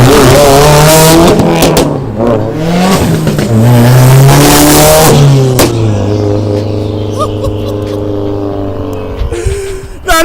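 A Subaru with a full ETS turbo-back exhaust revs hard close by, with repeated rising and falling engine wails and sharp crackles from flames, then a long sustained pull as the car drives off into the distance.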